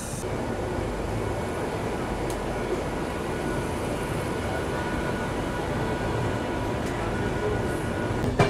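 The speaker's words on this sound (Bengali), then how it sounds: "গৌড় এক্সপ্রেস তার নির্ধারিত সময় শিয়ালদা স্টেশন থেকে ছেড়ে দিল" Gour Express train pulling out of Sealdah station at night: a steady, continuous rail rumble with a dense low roar that holds evenly throughout, no voices.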